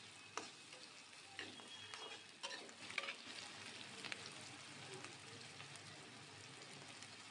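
Onion sizzling gently in a pan until pink, a soft steady fry with a few sharper crackles and stirring scrapes near the start, fairly quiet and with no talking.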